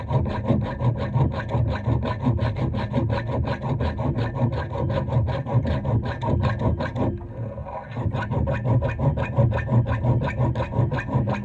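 A chainsaw file sharpening a cutter edge on a machine that duplicates hard hickory axe handles, a dense continuous rasp of rapid strokes, loud and close, with a brief dip near the end before the filing resumes.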